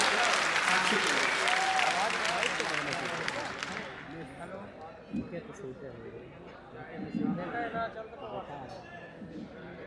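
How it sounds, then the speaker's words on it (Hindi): Loud applause from an audience at a festival event fills the first few seconds, then fades into crowd murmur and scattered chatter. "तालियों के साथ स्वागत कीजिएगा।"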